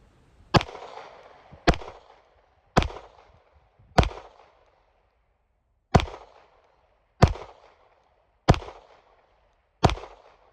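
Pistol shots ring out one at a time during a timed shooting drill at 15 yards, eight sharp loud reports with ringing decay, spaced roughly one to one and a half seconds apart, with no talk between them.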